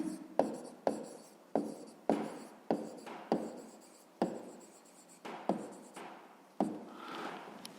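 Pen strokes scratch across paper while a 5th-grade maths exercise is written out, a steady series of sharp taps, each followed by scratchy scribbling, close and alone.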